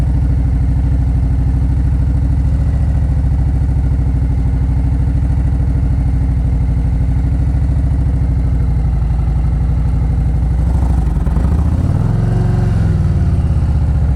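A motorcycle engine idles and putters steadily during slow-speed riding practice with on-and-off braking and a fixed clutch point, loud and close throughout, with a brief rougher swell of revving near the end.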